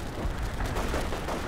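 Artillery fire in the Company of Heroes video game: a dense, continuous rumble of booming low blasts and crackling reports, steady and loud across the whole moment with no voices.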